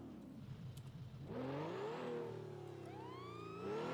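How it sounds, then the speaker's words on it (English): A police siren from a FiveM game mod, fitted to a car, sweeps up and down in rising and falling wails over a steady engine hum, loud and close, with no talk. "as you can hear, sirens come on"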